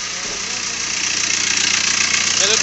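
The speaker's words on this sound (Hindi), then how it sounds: "टक टक टक टक टक टक साउंड आ रहा है ना, वो टाइमिंग चेन का साउंड है।" A Maruti Brezza engine runs with a rapid ticking from the timing chain, a fault car that has starting trouble and a check engine light on, steady and close, its sound building slightly over a few seconds.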